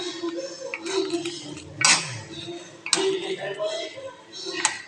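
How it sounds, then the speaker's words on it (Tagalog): Garlic fried golden being stirred in a cooking pan, with several sharp metal clinks and scrapes of a utensil against the pan over a low sizzle, while a voice speaks nearby. "Haluin na natin."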